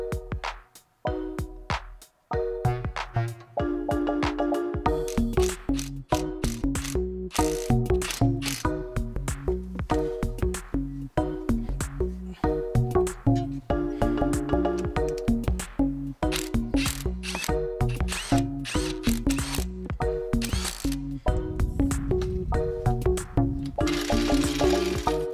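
New brake guide bolts being screwed back into a Mitsubishi Pajero, with a steady, close ratchet clicking running on continuously with brief pauses and no talking.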